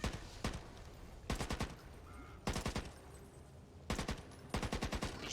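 Automatic gunfire in the video game Back 4 Blood comes in five loud, rapid bursts separated by short pauses, with no talking over it.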